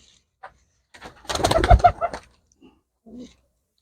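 Pigeons, a breeding pair of pedigree birds, give a few soft close coos, with one fuller burst of calling in the middle and a short call near the end, between quiet gaps.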